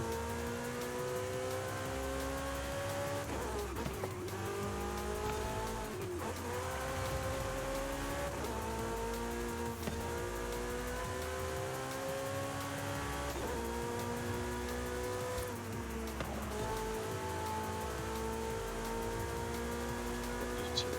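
Racing car engine in the Forza video game, revving hard and climbing through gears in repeated rising whines with abrupt shift drops, loud and continuous throughout.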